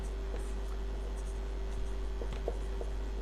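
A sentence written by hand, likely on a board, gives faint scratchy strokes and a few small taps over a low steady hum, with no talk.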